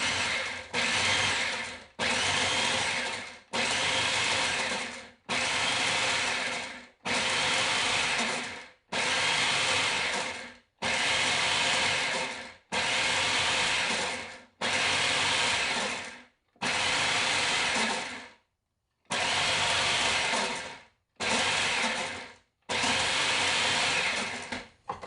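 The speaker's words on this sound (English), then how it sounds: "just going to kind of drizzle that over the white sugar in my food processor. Now I'm going to go ahead and pulse this" A food processor pulses white sugar drizzled with molasses in about a dozen loud, evenly spaced whirring bursts separated by short silences, with one longer gap near the end.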